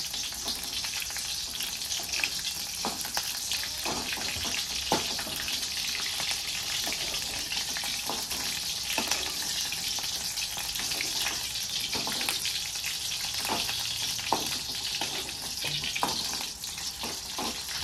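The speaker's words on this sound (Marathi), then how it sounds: "मिरची आपल्याला छान अशी तळून घ्यायची" Chopped green chillies fry in hot oil, giving a dense, even crackling hiss that runs throughout, dotted with brief pops and spatters, close and fairly quiet, without speech.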